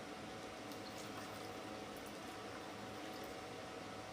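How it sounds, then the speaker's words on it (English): Water pours steadily into a blender jar holding a turmeric shot mix of black pepper, lemon, ginger and orange, a continuous close hiss and bubbling wash lasting several seconds with no talk. "now we're going to put some water"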